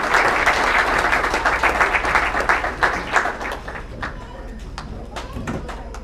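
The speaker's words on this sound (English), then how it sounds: "Give them a round of applause." A crowd applauds baseball players at an annual academy banquet. The clapping starts dense and loud, then thins and fades toward the end.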